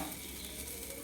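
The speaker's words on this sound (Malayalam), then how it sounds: "തേങ്ങ, മുളക്, 4 ചുള വെളുത്തുള്ളി, 2 തണ്ട് കറിവേപ്പില അത്ര ഇട്ടിട്ട് വെളിച്ചെണ്ണയിൽ വറുത്തെടുക്കുകയാണ്" Grated coconut, chilli, four garlic cloves and two sprigs of curry leaves fry in coconut oil, making a soft, even sizzle with faint stirring, heard alone and briefly.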